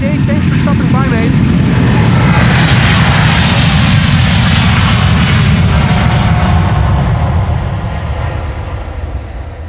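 A Delta Airlines jet bound for New York JFK roars down the Polderbaan runway 36L at Amsterdam Schiphol on takeoff. The loud, sustained engine rumble slowly fades toward the end, with a voice heard briefly at the start.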